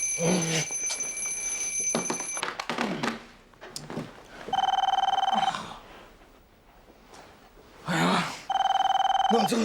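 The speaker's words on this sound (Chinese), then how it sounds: "电话又响了" A telephone rings in a newly opened family shop in repeated bursts of bright, steady electronic trilling, separated by short gaps. People talk between the rings.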